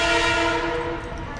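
A train passes close by at a street-naming ceremony in New York, its loud sustained horn blaring over the heavy rumble of the cars. The horn fades slightly toward the end.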